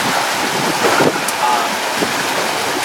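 Steady wind and breeze noise on a sailboat at sea in a 16 to 17 mph wind, a broad continuous rush with gusty swells and hints of water, constant and close throughout.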